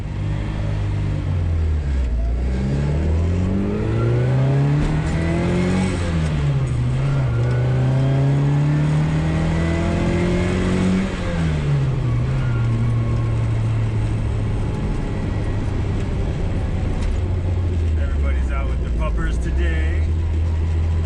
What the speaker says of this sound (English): This is a very loud car, but that's a 60s Mini for you.